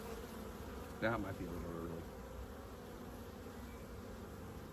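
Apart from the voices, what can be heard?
bees buzzing in an open hive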